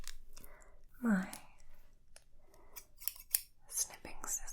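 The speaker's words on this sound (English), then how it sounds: "snipping scissors" Close-up ASMR snipping with small scissors: several crisp metallic snips and clicks come in quick succession, mixed with soft whispering and breathy sounds.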